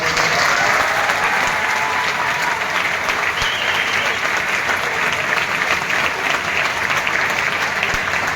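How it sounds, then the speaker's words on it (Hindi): Loud, sustained applause from a large audience of staff and students at a school celebration in Sonipat, filling the whole stretch with dense, steady clapping close by. "जोरदार ताली बजाओ"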